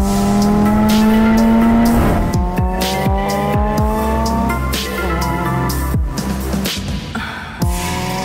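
A tuned Audi S3 stage 2 car revs and accelerates up close, its engine pitch climbing through rapid gear changes, with loud tire squeal near the start and sharp engine blips throughout.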